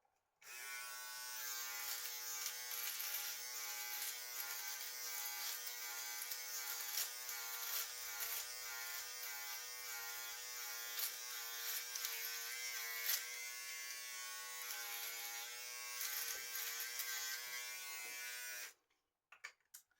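Wahl electric travel shaver buzzing close up, a continuous bright high-pitched whine that runs steadily for most of the clip and then cuts off abruptly.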